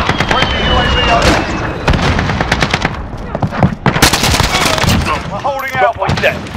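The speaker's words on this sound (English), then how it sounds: "Allied cruise missile on the way." Cruise missile strike in Modern Warfare, heavy gunfire and fireworks-like explosions crackling loudly in a busy battle scene, with radio voices talking throughout.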